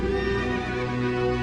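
A horse neighs in a steady, sustained whinny sound effect, loud and close, with no voices over it.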